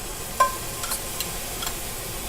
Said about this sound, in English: throw my shrimp in there and cook those off in the pan juice